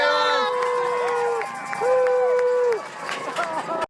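Crowd cheering Boston Marathon runners at the last marker before the finish line: continuous near cheers and shouts with rising and falling whoops, then a sudden cutoff at the end.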